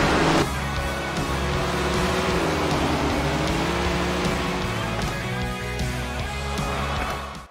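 Race car engines in Tony Stewart's All American Racing 2, a sprint-car video game, drone steadily and loudly at the start of a last chance qualifier, several engines layered together with shifting pitch and no talking.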